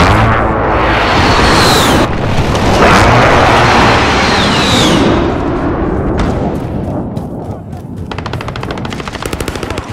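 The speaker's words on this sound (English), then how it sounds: "Friendly precision airstrike on the way." Airstrike in the video game Call of Duty: Modern Warfare: loud rolling explosions and heavy rumbling blasts fill the first half, then give way to rapid machine-gun fire that rattles on to the end.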